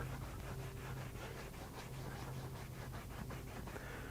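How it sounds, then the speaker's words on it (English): A leather car seat scrubbed with a cleaning pad and leather cleaner, a faint, rapid rhythmic rubbing back and forth with soft scratchy strokes and no voices. "work it in, suds it up, and then wipe it off if needed"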